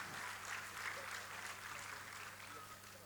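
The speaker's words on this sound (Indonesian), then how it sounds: "Tepuk tangan boleh buat semuanya." An audience at the opening of a regional folk-storytelling semifinal in West Java claps. The applause is steady and moderately distant, with a low hum underneath.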